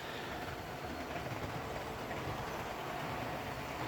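Five Hornby DCC model trains, including a Class 466 and a back-and-forth shuttle, run together round a layout, giving a steady close rumble and rattle of small wheels on track throughout.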